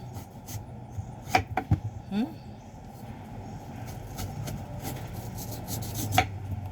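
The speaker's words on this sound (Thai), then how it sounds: "เริ่มหั่นมะม่วงก่อน" A knife slices and dices a large ripe mango into cubes, producing several crisp, close cuts at irregular intervals, mostly quiet, with someone talking around them.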